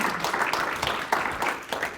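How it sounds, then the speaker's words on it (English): A short burst of audience clapping at a workforce event for international students and graduates, moderately loud and steady, with no talk over it. "can we please give Kim a round of applause?"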